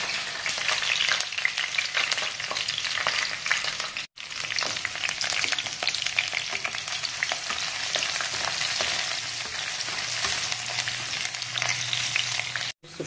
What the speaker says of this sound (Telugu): కాస్త నూనె పోస్తున్నాను పచ్చిమిరపకాయలు వేయడానికి. దీంట్లో పచ్చిమిరపకాయలు వేస్తున్నాను.